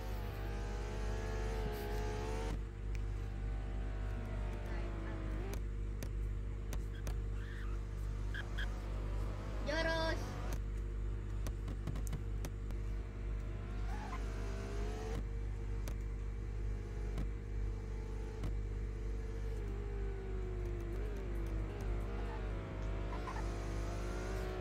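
A Roblox car in Car Driving Indonesia, racing at Sentul at night, drifts with a steady engine drone, rising and falling revs and a brief tyre squeal in the middle, no voices.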